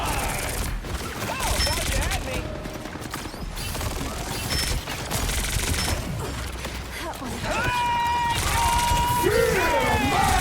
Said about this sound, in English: Their whole team hard commits to shooting their mag and it just fucking explodes